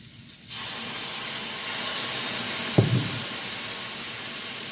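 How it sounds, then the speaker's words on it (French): Black balsamic vinegar hits a hot pan of chorizo and pearl couscous, bringing on a sudden steady hiss of steam and sizzle, joined by one brief clatter partway through, close and with no one speaking. "Je vais déglacer avec une cuillère à soupe de vinaigre balsamique"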